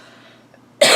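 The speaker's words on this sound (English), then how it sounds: "Now I've got a tickle in my throat and I'm going to cough again." A single person's cough bursts out loud and close after a brief quiet, sharp and broadband, from a tickle in the throat.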